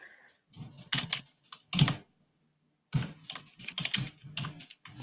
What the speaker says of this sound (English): the person in the audience is typing right now